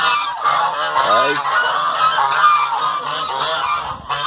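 Brown Sebastopol-type geese honk loudly and continuously at close range in a pen during egg collection, with layered, overlapping calls and no speech.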